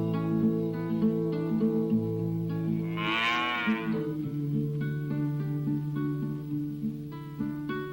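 A cow gives a long, low moo, rising briefly midway, layered over a gentle musical backing with sustained tones throughout, from a vintage Sesame Street episode.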